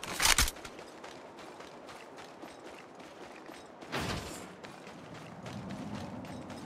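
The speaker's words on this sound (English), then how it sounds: "Reloading." Weapon reload in the mobile shooter Apex Legends Mobile: a sharp metallic click burst at the start, then a soft mechanical clunk near the four-second mark over a steady low game ambience, all fairly quiet with no talking.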